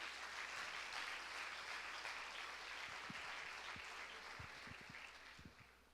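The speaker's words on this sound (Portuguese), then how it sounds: "Uma salva de palmas para o Senhor Jesus." A church congregation applauds during a sermon, a quiet, dense wash of clapping that holds steady and slowly fades, with a few low thumps near the end.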